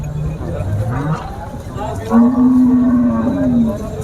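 A cow at a weekly livestock market lets out two deep, drawn-out moos close by, the second longer and louder, with a person's voice faintly in the background.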